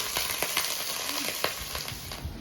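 Sliced onions sizzling and frying in hot oil in a pan for pigeon curry, a steady close crackling hiss with occasional pops and faint stirring.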